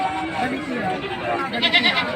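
Goat at a livestock market in Padre Garcia, Batangas, bleating in a short wavering call near the end, close by and partly under steady crowd chatter and a voice.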